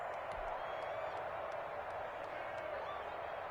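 Football stadium crowd at a Bengals–Ravens game, a steady, distant roar of cheering and noise sustained throughout with no distinct peaks.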